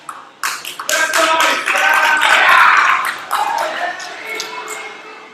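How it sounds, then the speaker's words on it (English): Applause from an assembled audience greeting a school house's staff, a dense round of clapping swelling and holding steady for several seconds before thinning toward the end. "Give them a big round of applause."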